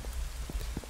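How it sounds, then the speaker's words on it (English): Rain in a farming simulation game, a soft steady patter with a few light droplet taps over a low background hum. "Oh, because it's raining."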